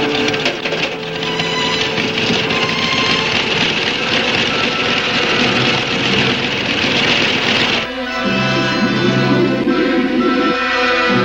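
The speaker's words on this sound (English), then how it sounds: "the compressor, used to fill scuba tanks with life-giving air" Air compressor filling scuba tanks, a loud, steady mechanical drone with rattling and whine that shifts tone partway through, running continuously.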